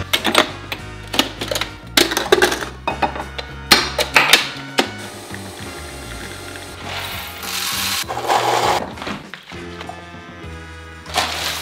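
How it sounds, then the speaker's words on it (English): Coffee beans being ground for a Moccamaster brewer, loud close mechanical ratcheting and grinding in repeated bursts, with clattering and rattling pauses between them and no speech. "First, you have to grind the beans."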